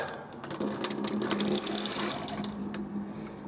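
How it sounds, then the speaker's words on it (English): Water running from the hot tap into the sink of a 1997 Swift Classic Doublette touring caravan, a steady splashing stream with a faint pump hum underneath, alone and close by. "Hot tap, cold tap, all the taps work in the van."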